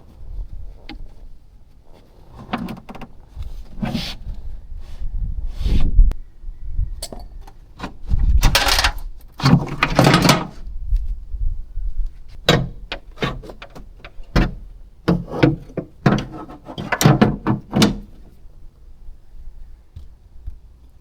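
Tools remove screws from a rear window regulator inside a 1999–2003 Acura TL door, giving close, sporadic metallic clicks, knocks and rattles with irregular gaps between them.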